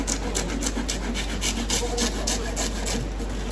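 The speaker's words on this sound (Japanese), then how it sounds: "頭はやっぱりこのノコギリ使うんですか？" A handsaw cuts through the bone of a whole tuna's head at a Tsukiji fish wholesaler, a close rhythmic rasping of quick, even strokes over steady low hum.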